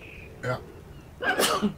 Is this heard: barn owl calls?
no